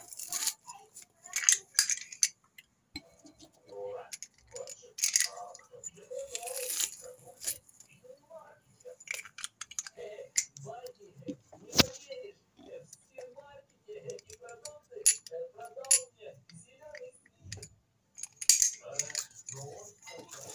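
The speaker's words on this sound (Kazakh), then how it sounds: "Енді чеснок турап саламыз." A knife chops garlic for a grandmother's kholodets in a rapid, irregular series of crisp taps and crunches against a board, with a voice murmuring at times underneath.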